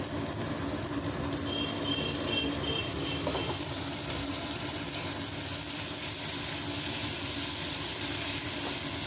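Tomatoes dropped into a hot pan with ginger garlic paste for an egg curry, giving a loud, steady sizzle and hiss that holds without a break, close by and with no voices.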